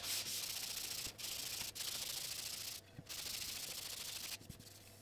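Wood is sanded by hand with 400 grit sandpaper, a close, steady back-and-forth rubbing hiss broken by a few short pauses, with no talking.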